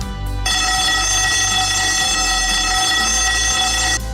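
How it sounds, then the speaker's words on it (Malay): A loud, continuous emergency evacuation alarm sounds at the World Trade Center Kuala Lumpur convention centre, a steady, harsh electronic ringing that starts abruptly after a brief pause and holds unbroken for nearly four seconds before cutting off. "The second component is the emergency evacuation procedure. If you hear this alarm"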